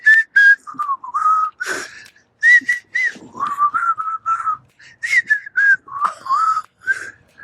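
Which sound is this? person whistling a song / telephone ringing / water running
person whistling a song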